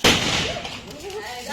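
A firecracker bursts with one sharp, loud pop at the start during a Vishu celebration, followed by fading crackle and a voice speaking briefly afterward.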